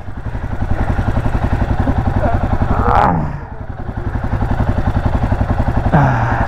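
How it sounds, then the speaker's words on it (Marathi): A motorcycle engine idles through a cold start in freezing weather in Ladakh's Nubra Valley, a steady close, loud pulsing rumble with a brief rev or clatter near the middle and again near the end. "कोल्ड स्टार्ट करतोय बाईक, कारण की इथे भरपूर थंडी आहे"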